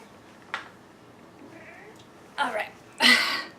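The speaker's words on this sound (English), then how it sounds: "I have a cat who thinks she's a dog." Short calls from a pet cat, a brief chirp followed after a pause by two louder, close meows in quick succession near the end, with faint room noise between.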